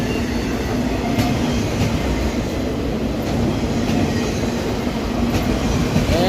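A CSX freight train hauling empty autoracks rolls steadily past at close range, a continuous loud rumble of wheels and cars with faint clicks from the rail joints.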